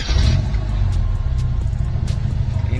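An old Fiat Mirafiori engine running right after being started, with a steady low rumbling idle close by and no voices.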